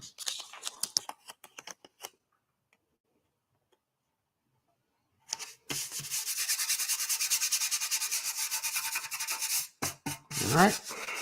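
Sandpaper rubs a surface beside protective pinstripe tape. Scattered close taps come first, then a pause, then several seconds of steady, close scratchy sanding strokes.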